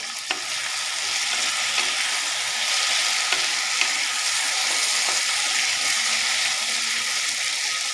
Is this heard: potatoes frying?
yes